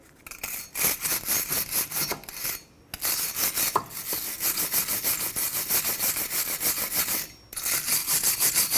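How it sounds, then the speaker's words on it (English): Rubbing and scraping while the hub and inner area of a 2014-2019 Toyota Highlander's rear wheel are cleaned after the caliper bracket and rotor are removed, a close, steady rasping broken by two brief pauses. "Clean around the hub and inside of here."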